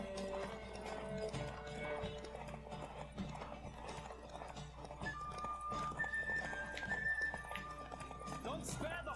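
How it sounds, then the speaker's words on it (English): A horse gallops with steady rhythmic hoofbeats in The Witcher 3 on Switch, and a whinny is heard partway through. Game music and a voice run underneath. "Don't spare the horse!"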